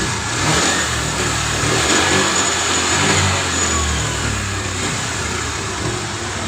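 A carbureted Honda Vario scooter engine revs steadily with the battery cable disconnected, a continuous mid-pitched drone that swells slightly and holds, close and loud with no talking.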